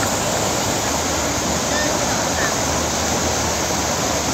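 A waterfall roars in a steady, loud, unbroken wash of rushing water close by, with no clear voices over it.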